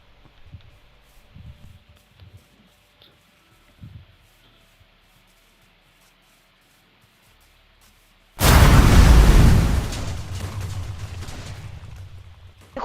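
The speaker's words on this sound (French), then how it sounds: "C'est quoi cette explosion?" A sudden loud blast in the Minecraft video game erupts after a long near-silent stretch with faint thumps, then a rumbling tail slowly fades.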